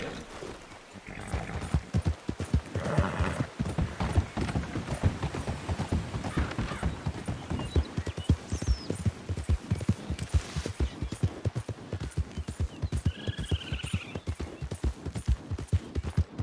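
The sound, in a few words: horse hooves clip-clopping while riding, from video game RedM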